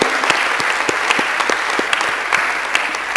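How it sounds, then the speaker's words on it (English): A large conference audience at a sports science congress closing ceremony gives steady, dense applause for the organizing office team, a continuous wash of clapping with a few sharper claps standing out close by. "So can we have a round of applause for our office?"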